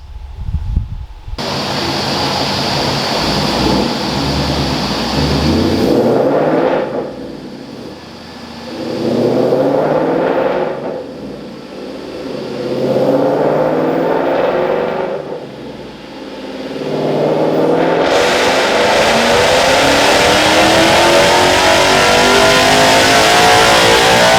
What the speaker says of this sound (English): Now it's time to strap it on the dyno, see what kind of power she makes.